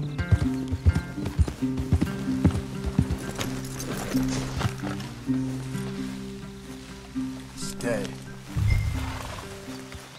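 Horses walk with steady clip-clop hooves in Red Dead Redemption 2, a close rhythmic plodding with a brief whinny or snort, under talk in a wooded setting.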